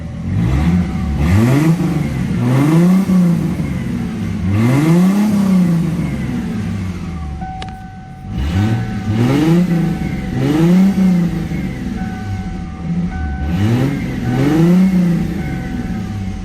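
A 1997 Mustang coupe with no mufflers, exhaust running straight from the catalytic converters, revs repeatedly in loud, close rising-and-falling bursts over a rough idle.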